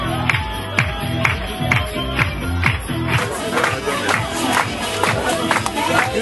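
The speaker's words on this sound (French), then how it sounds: "Je voudrais qu'on s'applaudisse tous" A crowd cheers and claps loudly over pounding rhythmic music, with shouts and whoops rising throughout.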